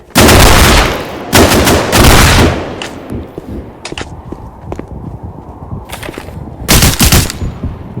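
Gunfire comes in loud, close bursts of rapid shots, with scattered single cracks and softer pops in between.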